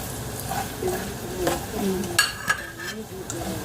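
Chicken and mushroom frying in a pan for carbonara, a steady close sizzle with stirring and light scrapes of a utensil against the pan throughout.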